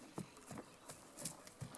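Hooves of a young, healthy purebred Criollo colt clip-clop in a steady walking rhythm, about six soft, even footfalls, moderately close and quiet, with no talk over them.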